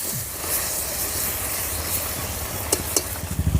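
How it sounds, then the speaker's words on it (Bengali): Spice paste with salt and turmeric sizzles steadily as it is stir-fried over a clay stove for village-style chicken tarka, a constant frying hiss with a few sharper scraping stirs near the end. "মশলার মধ্যে লবণ আর হলুদ দিয়ে দেব এবারে ভালো করে মশলাটা কষিয়ে নেবো"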